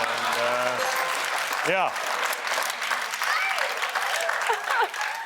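A comedy show audience claps and cheers in a broad, steady wash of applause that fills the room, while a voice talks over it.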